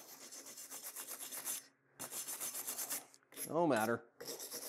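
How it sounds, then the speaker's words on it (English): A wire brush scrubs flux-core welding residue off a welded three-point trailer hitch, with rhythmic close scraping strokes in short bursts broken by pauses, and a voice speaking briefly partway through. "I'm just wire brushing off that flux core leaves a film everywhere"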